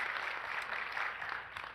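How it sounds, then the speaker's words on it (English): A keynote audience claps together in steady applause for a speaker, a dense, even patter of hands throughout the brief moment. "can we give her a round of applause"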